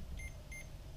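Two short, faint electronic beeps from a Lowrance Hook2 fishfinder GPS unit during setup, sounding in quick succession over a steady low background hum.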